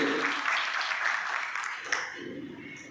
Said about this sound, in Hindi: एक बार जोरदार तालियों के साथ कार्यक्रम की शुरुआत करेंगे